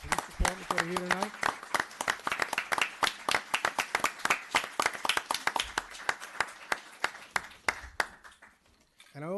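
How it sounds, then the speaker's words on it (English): A crowd at a town board meeting applauds the local police department, a dense run of close hand claps that thins out toward the end, with a voice briefly heard at the start. "So if I can get a round of applause for the men and women of the Yorktown Police Department that are here tonight."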